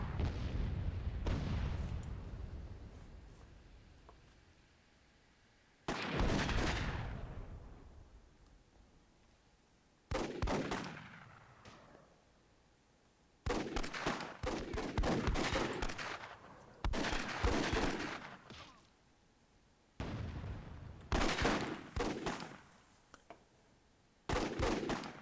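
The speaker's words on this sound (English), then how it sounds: "shooting some RPGs." Heavy gunfire and booming rocket-propelled grenade blasts in the World War II tournament of the strategy game Myth II Soulblighter, several loud bursts each fading out, separated by brief quiet gaps.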